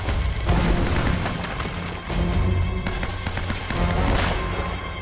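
A grenade blast in the game Uncharted, set among booming explosive bursts and scattered gunfire cracks, loud and close, running steadily with game music underneath.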